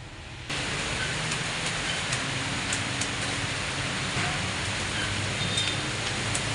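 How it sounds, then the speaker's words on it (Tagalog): Heavy rain pouring down steadily beside a swimming pool, a dense, even wash of falling water with scattered droplet taps, continuous and fairly loud throughout. "Ang lakas ng ulan dito. Sobra."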